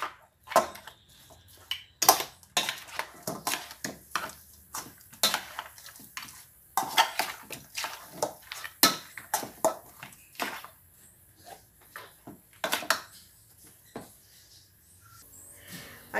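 Spoon stirring a mixture of vegetables and chambari fish in a cooking pot, with irregular clinks and scrapes at close range, sparse and moderately soft against a quiet kitchen background.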